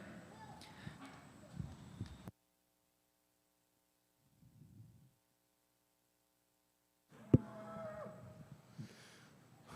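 A low, soft moo from a Holstein cow sounds faintly in a quiet gap at the Ohio State Fair show ring, set between stretches of murmuring crowd and announcer talk.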